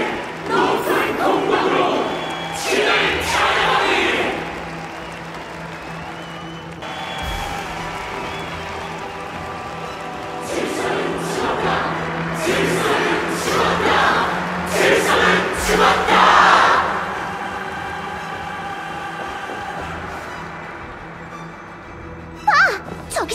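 A crowd cheers and shouts in the Honkai: Star Rail video game, swelling roars and battle cries rising and falling over a steady background score, with brief thumps and a sharp hit near the end.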